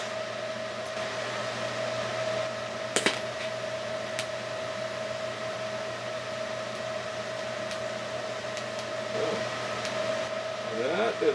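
A TIG welder fills a hole in a sawmill edger shaft, giving off a steady electrical hum and buzz with a few faint clicks and short crackles near the end.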